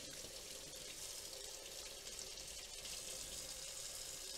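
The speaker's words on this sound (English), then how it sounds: "We're going to rinse this off now." Running tap water rinsing a freshly hand-poured ten troy ounce silver bar after a dilute sulfuric acid pickle, a steady close hiss and splash of water over metal, continuous and fairly quiet.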